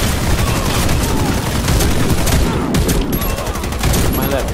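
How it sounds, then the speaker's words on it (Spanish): A USAS-12 automatic shotgun fires in Warface, a dense, loud, continuous barrage of rapid blasts close up, filling the whole stretch with no pauses. "Mala bestia de ametralladora."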